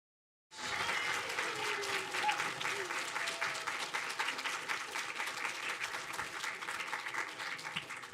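Audience applause and cheering for UCLA mentors standing up at an education program event, bursting in suddenly and staying dense and steady for about eight seconds.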